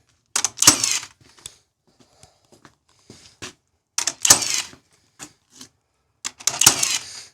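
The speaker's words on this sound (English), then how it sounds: "Pop another nail in each corner." Nails are driven into the corners of a wooden barn gate: sharp, sparse impacts, with three louder clusters of strikes spaced a few seconds apart and faint ticks between them, close and clear with no talk.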